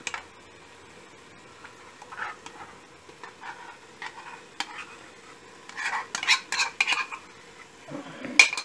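Beaten yogurt is stirred into hot oil in a pot for Kerala beef biryani, with a spoon clinking and scraping against the pot in irregular bursts over a faint background sizzle, close up, louder near the end.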